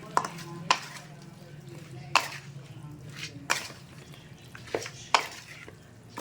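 A spoon mixes chicken 65 marinade in a bowl, giving a series of sharp, irregular clinks and wet scrapes about once a second, close up, over a low background hum.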